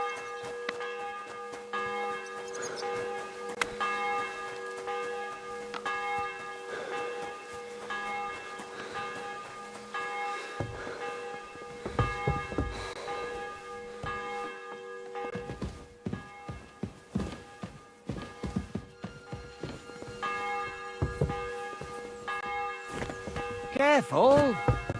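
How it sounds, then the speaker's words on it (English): A church bell rings steadily with sustained, overlapping tones throughout, accompanied by scattered taps and footstep-like clatter nearby, with some muffled voices in the background. "The bell's ringing for Hans the 5th time."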